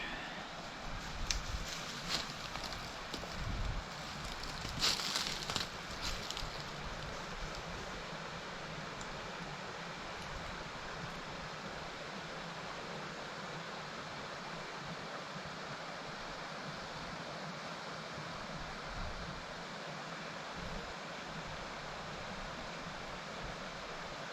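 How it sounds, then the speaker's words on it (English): A loud, steady roar of rushing water from a fast brook, continuous and broadband, with a few brief louder bursts early on and no talking. "It's a loud roaring brook."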